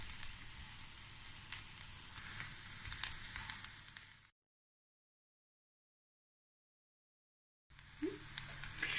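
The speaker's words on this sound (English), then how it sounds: "we've fried the onions and the white cumin seeds" Onions and white cumin seeds fry quietly in a pan with a soft, continuous sizzle, broken by a few seconds of complete silence before the sizzling resumes.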